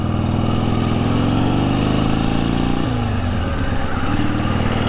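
A Honda Grom motorcycle riding past on a street in Columbus, Ohio, its engine drone loud and continuous, rising in pitch and then dropping as it goes by.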